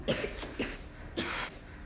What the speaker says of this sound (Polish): Dzieci zaczęły dziś kasłać.